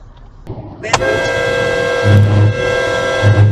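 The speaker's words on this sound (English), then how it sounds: "you can't hear the fucking horn?" A long sustained car horn blares steadily for several seconds close by, with low rumbling road noise and brief voices underneath.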